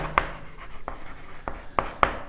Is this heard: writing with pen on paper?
yes